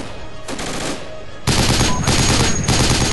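Sustained gunfire in Project Reality 0.95, a tactical shooter with US Army troops hunting a Taliban ammo depot: dense, loud rattling bursts that swell at intervals, with distant shots beneath, no voices.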